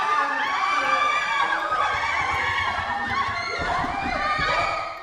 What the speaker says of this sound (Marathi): पण त्या अंधारात भूतांचे किंचाळण्याचे आवाज येऊ लागले.